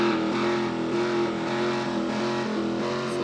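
An old V8 car engine in a racing video game, a steady droning rumble with strong even harmonics, holding a near-constant pitch with slight fluctuations, heard alone and moderately loud.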